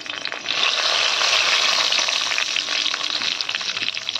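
Dried red chillies and bay leaf frying in hot mustard oil, a loud, steady close-up sizzle after a brief quieter start, continuous with no talking.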